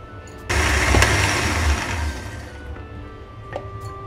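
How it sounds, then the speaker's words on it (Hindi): A kitchen mixer grinder switches on abruptly and whirs loudly while grinding onions with a little water into a paste for Hyderabadi baghare baingan, then its roar gradually fades as it winds down, with a few faint clicks afterward. "अब हम इसको निकालते हैं और पीसते हैं अपनी प्याज को।"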